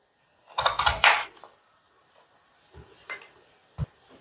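A knife cutting potatoes into long strips on a board, a short burst of chopping strokes followed by a few isolated knocks and taps, close and fairly loud.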